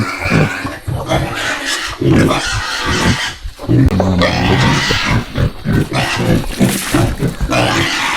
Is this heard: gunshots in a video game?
no